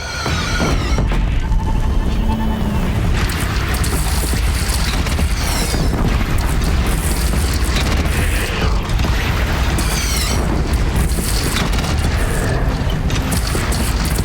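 Cannons firing on a defended platform in the Horizon Zero Dawn video game, heavy booms and mechanical clanks layered over a constant loud roar of battle with intermittent sharp bursts.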